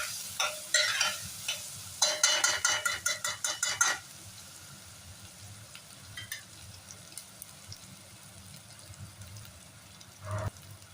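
Ginger garlic paste stirred in a hot pan for chana masala, with a spoon scraping in quick rhythmic strokes over a sizzle, then quieter frying with a faint clink near the end.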